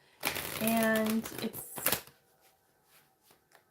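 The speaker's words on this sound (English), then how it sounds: "Maybe you can hear him shuffling the cards here." A quick burst of a tarot-style card deck being riffled and shuffled close up, followed by softer shuffling taps and brief talk.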